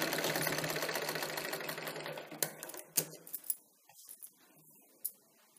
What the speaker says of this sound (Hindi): इसे हम डबल सिलाई कर रहे हैं इस तरह से।